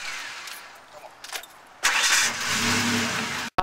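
A car door thumps shut and the engine cranks and catches, then settles into a loud, close running rumble before a brief cutoff and another burst at the end.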